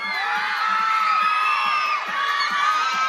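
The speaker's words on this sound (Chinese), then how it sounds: "掌声俾上天，车银呀！" An audience at an awards ceremony in Hong Kong cheers, screams and whoops loudly and continuously, a dense crowd roar with high-pitched shrieks throughout.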